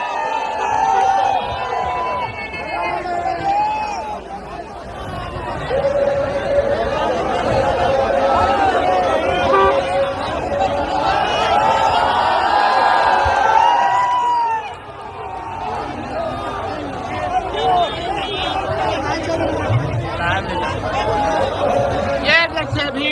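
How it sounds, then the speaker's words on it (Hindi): A large crowd gathers in Bengal to see a political leader, a dense continuous roar of chatter and shouting with occasional cheers, loud and sustained throughout. "ये देखिए भीड़ टाइगर जयराम महतो को देखने के लिए बंगाल में"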